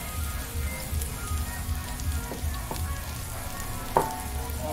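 Mustard oil sizzles and crackles steadily in a hot cooking pot over a fire, a close continuous frying hiss with a sharp pop near the end.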